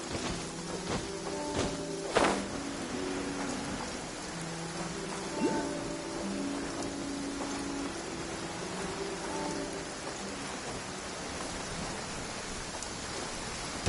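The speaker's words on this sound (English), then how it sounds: "Taking a stroll in the middle of a downpour certainly rouses the spirit." Steady, dense rain hisses throughout, with a few louder drips and splashes standing out near the start, no voices present.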